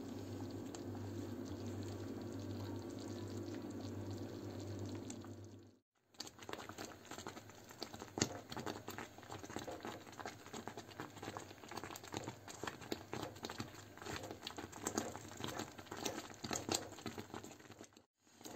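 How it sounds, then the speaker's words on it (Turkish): Semolina halva boiling in milk in a pot, soft bubbling and popping that grows busier after a short pause, quiet and close with irregular crackles throughout. "Şimdi irmik helvamız kaynamaya devam ediyor"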